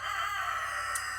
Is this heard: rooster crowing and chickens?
yes